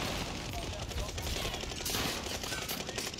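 Machine gun fire in an online shooter game, a dense continuous rattle of rapid shots that fills the whole stretch loudly, with voices faintly mixed in.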